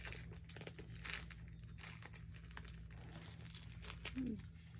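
Plastic packaging from a gem show unboxing crinkles and rustles in quiet, irregular bursts close by, with a faint low hum underneath.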